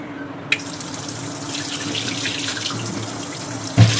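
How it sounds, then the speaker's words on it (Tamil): Tap water running steadily into a bowl as raw chicken is washed, a continuous close splashing stream with a faint knock near the start and a thump near the end. "ஒரு பாத்திரத்தில் வந்து சிக்கனை வந்து நல்லா வாஷ் பண்ணிடலாம்"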